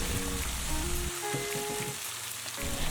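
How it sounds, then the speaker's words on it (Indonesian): Anchovies sizzle and crackle in hot oil in a wok, a steady dense frying hiss with occasional stirring scrapes, close and continuous with no talking. "goreng teri sampai berwarna kuning kecoklatan atau udah mateng"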